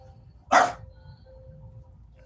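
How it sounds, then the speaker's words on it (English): A single sharp dog bark rings out near the start, followed by a low steady hum and quiet background. "She's barking"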